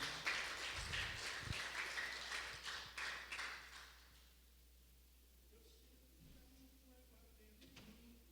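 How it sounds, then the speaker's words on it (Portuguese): A congregation claps together during a Sunday church service, a dense burst of applause that carries for several seconds and then dies away into a quiet room hum. "Dile una fuerte palmas para el Señor"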